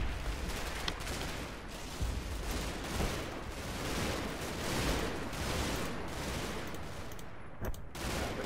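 Dense, sustained gunfire from a World War II Normandy battle in a Combat Mission strategy game, continuous overlapping rifle and machine-gun bursts forming a loud, steady fusillade with no talk.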